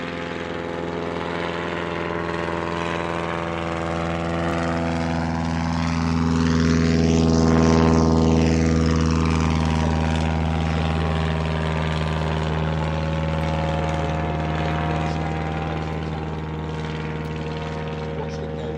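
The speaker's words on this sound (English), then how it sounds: "An engine more commonly used in modern light aircraft." Steady engine drone of a propeller aircraft fitted with a modern light-aircraft engine, with a sweeping Doppler pattern as it swells and passes close overhead before fading back to a constant hum.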